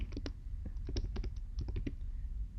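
Quick, light typing on a computer keyboard: irregular bursts of soft clicky keystrokes, close by and fairly quiet, with no voices.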